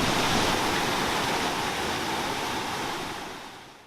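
A waterfall cascades over layered rock at Pictured Rocks National Lakeshore, a dense, loud, continuous roar of falling water close by, alone and fading slightly at the end.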